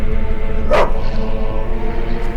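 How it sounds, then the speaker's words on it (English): Dogs barking in The Witcher: Enhanced Edition, a single loud close bark burst standing out over a steady, busy game soundscape with low rumble and ambient tones. "What are those dogs doing?"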